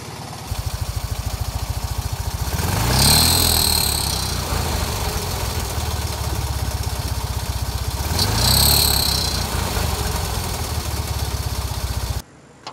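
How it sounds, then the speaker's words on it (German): Small engine of a vintage Fiat 500 idling with an uneven, sputtering putter, twice revving up briefly before settling back to a rough idle, close by. "dass sich der Motor nicht mehr so gesund anhörte"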